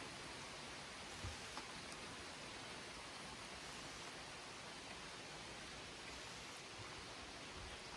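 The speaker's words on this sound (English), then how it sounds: "I love the sound of the rain falling." Steady rain falling outdoors beside a boat on the Great Loop near Demopolis, a constant dense hiss with no breaks, fairly soft and alone without voices.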